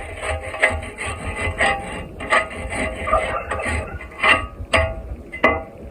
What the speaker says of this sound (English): So, we're gonna brush it.